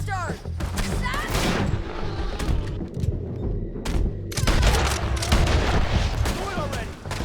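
Gunfire during a fight in the video game Red Dead Redemption 2: a dense run of overlapping shots and booming reports rolls on steadily, loud and close, with voices shouting over the fighting.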